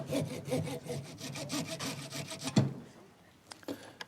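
A piece of plastic being cut around in a circle, a steady close rhythmic sawing rasp of quick strokes that stops partway, followed by a few faint knocks.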